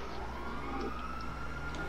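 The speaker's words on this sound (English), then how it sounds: "I hear sirens." Police sirens wail in GTA 5, a steady droning siren and traffic rumble held at moderate distance with no talk over it.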